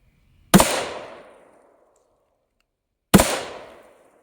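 Two single 9mm pistol shots, from a Glock 19 or Canik TP9 at an outdoor target range, each a sharp, loud crack with a ringing decay, spaced about two and a half seconds apart with silence between.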